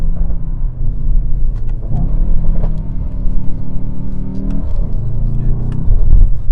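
A Mercedes-AMG GT 63 S four-door sedan cruising gently in comfort mode, its engine a steady low rumble with mild swells as it eases forward, heard from close by with no talking.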